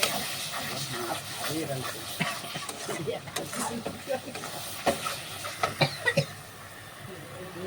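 Spices sizzle and hiss in hot oil in a home kitchen as onion paste is added to a vetki fish curry, the soft frying broken by scrapes and clinks, with a voice talking faintly in the background.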